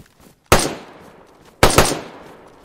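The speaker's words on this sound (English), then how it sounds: "Might just fire a couple shots in the air here in a second." Two loud, sharp gunshots fired into the air in DayZ, about a second apart, each cracking close and then ringing out in a long fading echo.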